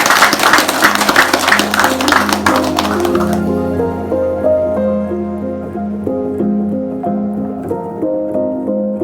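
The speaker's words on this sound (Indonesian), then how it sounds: "Tepuk tangan buat masyarakat Akit, sukses di Pilkada Pelalawan." Applause and clapping from a crowd honoring the Akit community after local elections in Pelalawan, Riau, dense and steady at first, then dropping away as music with a steady beat carries on.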